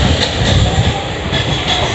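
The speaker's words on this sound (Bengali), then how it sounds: "ট্রেন আমাদের ছেড়ে বেরিয়ে যাচ্ছে।" A local suburban train on the Howrah–Dum Dum line pulls out of Sovabazar Ahiritola station, heard from on board as a steady rolling rumble with rhythmic wheel clatter and a faint metallic hiss.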